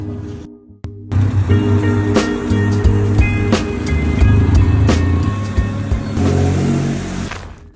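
A car rolls into a repair service workshop, its engine droning steadily and loud up close, with clunks and rattles as it moves over the floor.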